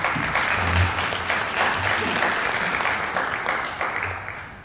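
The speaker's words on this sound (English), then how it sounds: "So let's give Bruce another round of applause." An audience at the Nelly Bly Awards 2018 ceremony gives a sustained round of applause, dense and steady, slowly fading toward the end.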